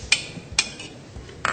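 A utensil stirs a requeijão cream sauce for chicken fricassê in a pan, giving a few sharp metallic clinks spaced apart against quiet background noise.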